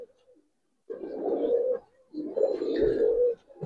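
Giribaz pigeons, an old Dhaka breed, coo in two long, throaty phrases from close by, with a short pause between them and no talk.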